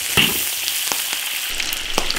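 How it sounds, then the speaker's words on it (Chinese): Pork sizzles as it is stir-fried in an iron wok with rustic chili, fermented black beans, Sichuan peppercorns, ginger and garlic, giving a continuous close hiss broken by sharp spatula scrapes. "把肉炒香"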